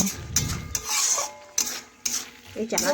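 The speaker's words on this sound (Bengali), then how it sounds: "এখন আমি এই সবজিটা একটা বাটিতে ঢেলে নেব।" Cooked drumstick flower vegetable scraped and poured from a pan into a bowl, with a few scraping and clinking utensil sounds against soft rubbing, close and fairly quiet.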